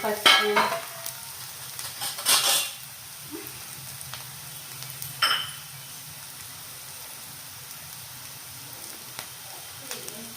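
Onions fry in a pan for a spinach and raw coconut curry, with a few bursts of stirring and sizzle near the start, then settling into a faint, steady hiss.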